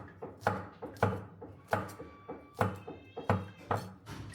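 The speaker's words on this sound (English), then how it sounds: "Today, I minced this clove of garlic." A knife chops rhythmically through a garlic clove on a cutting board, about a dozen crisp, close taps at an uneven pace, alone in a quiet kitchen.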